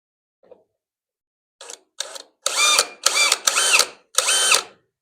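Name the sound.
drill bit drilling pilot hole in spot weld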